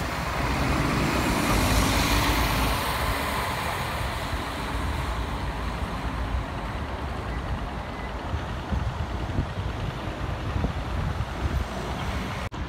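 A city bus on route 55 to Station Zuid drives off from a stop, its engine roar strongest early on. It settles into continuous traffic noise and road rumble from the street, with no talking.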